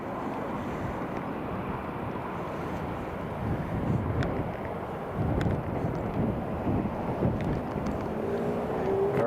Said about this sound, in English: Airbus A350 here at Newcastle International Airport, just about to arrive.